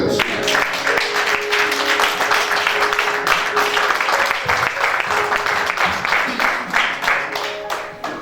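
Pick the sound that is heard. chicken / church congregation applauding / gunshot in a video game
church congregation applauding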